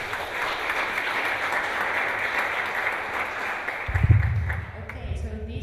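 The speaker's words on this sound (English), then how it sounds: "big round of applause for Andrew" A conference audience at DuneCon applauds steadily in a sustained burst of clapping that fades toward the end, with a few low thumps near the close.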